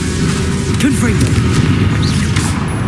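In Hogwarts Legacy, a Confringo blasting spell goes off as a booming explosion amid loud, steady combat noise, with a short vocal sound heard around the middle.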